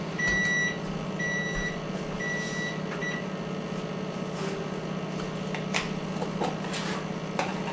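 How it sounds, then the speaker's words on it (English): A kitchen timer beeps while orange ginger salmon is being prepared from scratch, giving three short bursts of high, piercing beeps over a low, steady kitchen hum, then falling quiet. "There's my timer."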